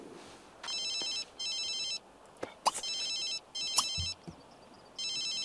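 Mobile phone in The Sims 3 ringing in repeated electronic bursts of a bright warbling ringtone, with short gaps between rings and a few faint game clicks, no talk.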